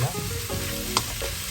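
Pork curry with black roasted coconut simmers in a pan over a low flame, giving a soft, steady close sizzle with a faint clink partway through.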